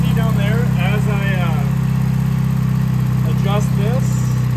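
A BMW Airhead motorcycle engine from the 1970–1995 range with Bing carburetors is held just above idle in a steady, loud mid-pitched drone, while someone talks over it.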